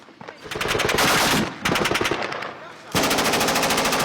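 Bursts of rapid automatic gunfire in the Syrian war, loud and close, in two long strings split by a brief pause, with no talk over it.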